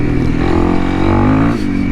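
A Honda CRF 300L dual-sport motorcycle with a tuned ECU rides past loud and close, its engine droning steadily with a rough, throaty note that rises slightly and dips near the end.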